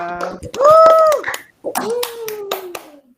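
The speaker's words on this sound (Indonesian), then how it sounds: "Tepuk tangan dulu buat kita semua." Schoolchildren in a classroom clap their hands together in a few sharp, separate bursts while a sustained, voiced chant or speech runs alongside, close and fairly loud.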